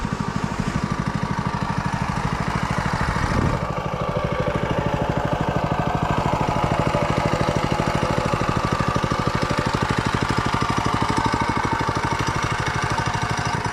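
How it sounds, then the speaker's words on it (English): Yerfdog go-kart engine fitted with a performance air filter runs steadily and loud throughout, a dense low mechanical chug with a brief rev surge early on, no voices. "it's a decent little go-kart"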